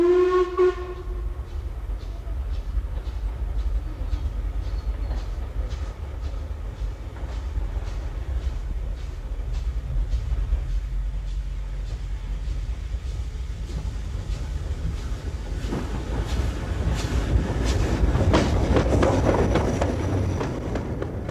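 A steam locomotive on a British heritage railway chuffs and rumbles steadily up close, with a brief whistle at the start and a louder surge of train noise toward the end.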